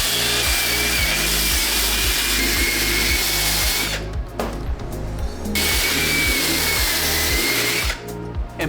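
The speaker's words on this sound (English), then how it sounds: "We're just gonna drill all over the bottom to get it all lathered up." A power drill with a scrub brush whirs loudly and continuously, scrubbing the clear sole of a sneaker, pausing briefly twice before starting up again.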